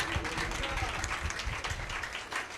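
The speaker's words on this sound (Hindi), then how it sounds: "एक बार जोर से ताली बजाओ यीशु के लिए" A church congregation at a Sunday service claps for Jesus, with steady, dense applause filling the whole stretch. Voices rise within the clapping.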